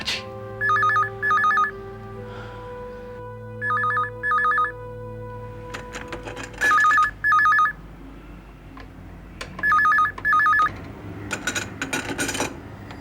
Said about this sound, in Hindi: अचानक एक रात फोन की घंटी बजी